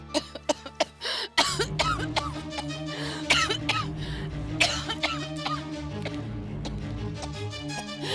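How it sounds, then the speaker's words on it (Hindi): A person coughs repeatedly in a rapid series of sharp, close bursts, then continues with further coughs over a steady background of music or ambience. "आपकी खांसी तो दिन पर दिन बढ़ती जा रही है।"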